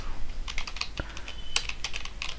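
Fast typing on a computer keyboard while entering an SQL query, a steady run of crisp close keystrokes with a few sharper clacks, heard alone without talk.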